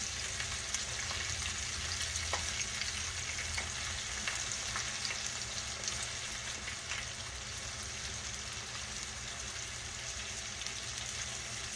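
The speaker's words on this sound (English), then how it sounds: "I'm frying mine in lard in case y'all want to know what I'm frying it in." Catfish nuggets crackle and sizzle steadily in hot lard, a dense, even frying hiss close by with scattered pops and no talking.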